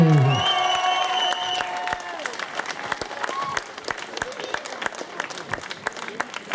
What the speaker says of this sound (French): on peut applaudir Ken Mitchell, s'il vous plaît